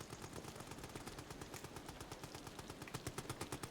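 Rapid gunfire in the horror video game Amnesia: The Bunker, sustained fast bursts of sharp shots in an even rhythm over a noisy background.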